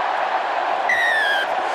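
A stadium crowd at a France versus Spain rugby sevens match in London cheers in a broad, continuous roar, with a brief high whistle cutting through midway.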